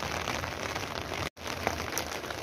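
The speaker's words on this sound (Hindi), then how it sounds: "आप देख सकते हैं कि कितनी प्यारी बारिश हो रही है" Rain falls steadily on a rooftop during a rainy day in Rawalpindi, Pakistan, a dense even patter with scattered louder drops and a brief dropout midway, with no voices.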